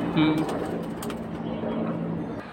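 Pigeons coo softly in low, rounded calls, with a person talking at the start and faint chirps around them in a calm setting.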